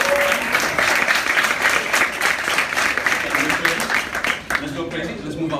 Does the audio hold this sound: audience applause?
yes